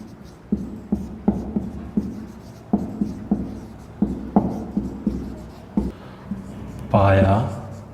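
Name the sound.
writing a definition on a board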